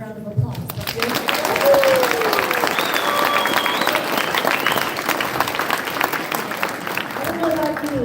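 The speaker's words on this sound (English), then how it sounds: "I think that deserves a round of applause." Audience applause and crowd cheers at a city's 100-year centennial celebration in Lindon, a steady broadband clapping wash sustained throughout with a few tonal whoops and voices mixed in.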